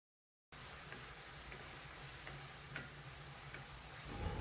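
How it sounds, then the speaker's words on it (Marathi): Green chilli and garlic thecha sautéing in hot oil, a steady close sizzle and fry with faint stirring scrapes, no talk, after a brief silent start. "हे सगळं साहित्य व्यवस्थित परतून घ्यायचं तेलामध्ये"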